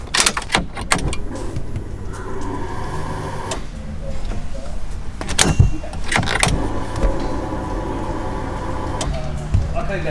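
A car with a manual clutch is started with keys, with a cranking whir and the engine catching amid clicks and jangles, as people talk nearby.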